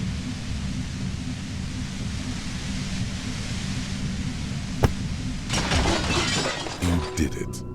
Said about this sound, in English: The compressor lies broken on its side.